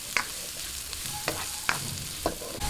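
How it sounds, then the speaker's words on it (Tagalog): Onions sautéing in a pan for a Filipino everlasting meatloaf, with a steady low sizzle broken by several distinct spatula stirs and scrapes spaced about a second apart, close and clear with no talking. "Ngayon, umpisahan na po natin ang paggigisa"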